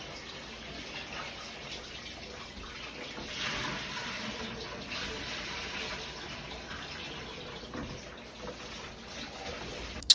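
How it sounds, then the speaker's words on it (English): Cold tap water runs steadily into a sink while raw chicken wings are rinsed with apple cider vinegar, a continuous splashing gush for about ten seconds with a brief clatter at the very end. "So I'm thoroughly cleaning my chicken wings. I got cold water and apple cider vinegar"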